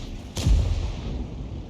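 A single heavy artillery shot from the Tiger (P) self-propelled gun in World of Tanks: one sharp, loud boom followed by a rumbling low tail that decays over about a second.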